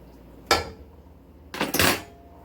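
Pot roast lifted out of its cooking pot, with a sharp metal clank followed a second later by a longer, louder clatter of utensil against pot, up close with no talking.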